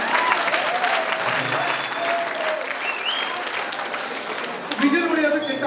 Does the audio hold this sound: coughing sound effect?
no